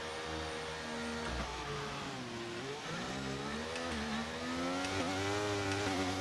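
An F1 car engine in the F1 23 video game revs at a race start, a loud, continuous high whine that rises and dips in pitch as it is held on the limiter, with no voices.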